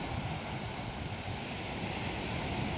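Sea waves churned up by strong wind on a rocky shore where fishing is under way, heard as a steady, loud, broadband roar with buffeting wind noise throughout and no distinct breaks.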